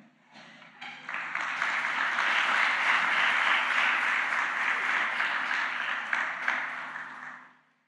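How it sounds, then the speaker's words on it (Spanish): A church congregation breaks into steady applause that swells quickly, holds for several seconds at full strength, then fades out. "Un aplauso para el equipo eficiente acá que tenemos."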